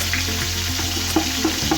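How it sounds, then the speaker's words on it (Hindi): Ginger and garlic fry in oil pushed to one side of a pot of gram-flour curry, a steady close sizzle with a low hum beneath and a few soft knocks near the end. "अदरक लहसुन एक तरफ हमारा जो ऑयल पड़ा है उन्हें भून लेंगे।"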